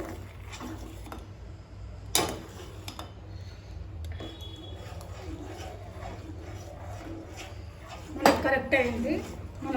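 A utensil stirs a fruit salad mixture in a pot with soft scraping and a few sharp clinks against the metal, over a steady low background hum.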